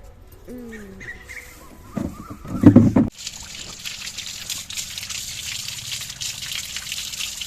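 Water gushes from a pipe to rinse a hair pack out of hair, a steady rushing splash that starts abruptly and continues, preceded by some brief knocks and a faint whistle-like tone.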